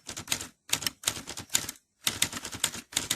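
Smith Corona Skyriter ultra-portable typewriter being typed on: close, crisp bursts of rapid key strikes in clusters separated by short pauses, with no talking.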